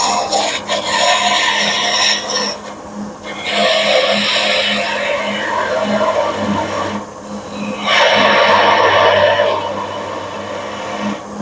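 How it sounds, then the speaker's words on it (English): Continuous rasping, scraping hiss of a woodturning tool taking a shearing cut on spinning wood on a lathe, loud and close, swelling and easing in several long passes with short breaks between. "this is a shearing cut here, not a scraping cut that I'm doing right now"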